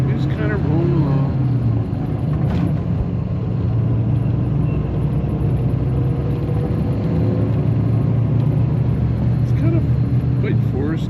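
A bus travels along a forested road in Mindanao on the way to Butuan City, its engine giving a steady, close rumble throughout while a voice talks over it.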